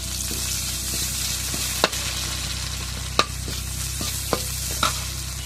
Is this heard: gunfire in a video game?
no